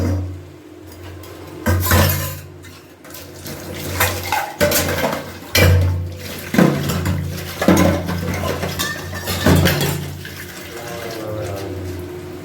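Pots, pans and cutlery clatter and clink in a home kitchen sink under running tap water, with repeated sharp knocks of dishes being scrubbed and rinsed close by.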